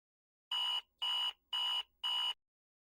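Phone alarm sounding four identical loud electronic beeps in an even rhythm, each about a quarter second long with short gaps of silence, clean and close with no one speaking.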